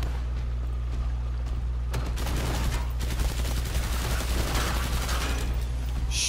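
Rapid gunfire in a co-op shooter against swarming enemies: dense, crackling bursts and overlapping shots that start quietly and build into a sustained loud barrage over a constant low hum, no talk.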